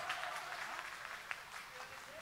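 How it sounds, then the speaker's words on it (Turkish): Faint, distant applause from a small gathering, a soft continuous patter with voices murmuring underneath. "Alkış."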